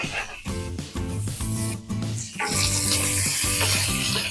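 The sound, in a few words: bacon sizzling as its fat renders in a pan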